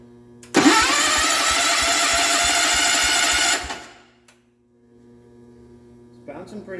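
A rebuilt engine on a 1974 John Deere 140 H3 garden tractor cranks and fires, running loud and steady with a rapid throb for about three seconds before cutting out, followed by quiet and faint handling noises.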